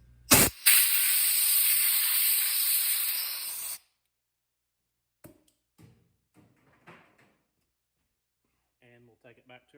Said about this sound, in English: Take a little bit of compressed air and blow our shavings out.